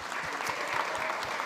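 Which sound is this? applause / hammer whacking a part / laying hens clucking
applause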